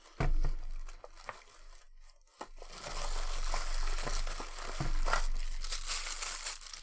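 A plastic bag crinkles and rustles up close while being handled, with sharp crackling bursts and a steady busy rustle through most of the stretch, no talking.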